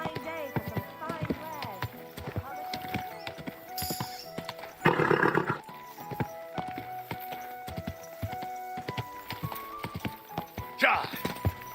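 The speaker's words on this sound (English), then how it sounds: "Easy, good horse." Horse hooves clip-clop steadily through Kingdom Come Deliverance II gameplay, with a short loud whinny near the middle and another near the end, under game music and voices.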